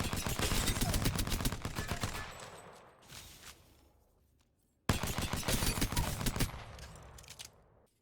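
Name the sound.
Care Package P2020 pistol firing in video game Apex Legends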